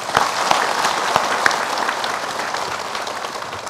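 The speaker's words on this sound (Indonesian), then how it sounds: "Tepuk tangan untuk Mbak Anis." Applause from a seated audience at a talk-show style gathering, a steady burst of clapping close by that holds even for a few seconds, with no speech over it.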